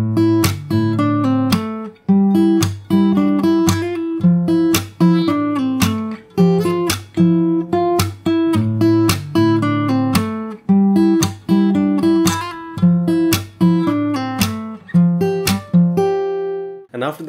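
Fingerstyle acoustic guitar plays a song's full interlude, a steady rhythmic pattern of plucked bass notes and bright chord strums, close, loud and continuous for its whole length, ending on a final ringing strum.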